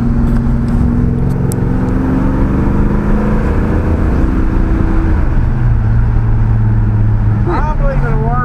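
A 1955 Chevy with a swapped engine pulls hard in third gear on a street dyno, a loud sustained engine drone that shifts pitch partway through. Voices talk over it near the end.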